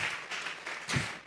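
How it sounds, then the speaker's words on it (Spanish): A church congregation claps and applauds as an offering of praise during a sermon, a dense, steady wash of hand claps lasting about a second. "vamos a regalarle ofrenda de palmas al Dios de la gloria."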